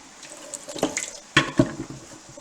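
Filtered water runs from a kitchen tap during potato peeling, an uneven splashing stream with a few louder splats and clatters near the sink, fairly close and with no talk.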